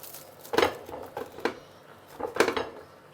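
A knife crunches through crispy fried roti canai in several quick cuts, brittle crackles tapping against a hard surface, close up.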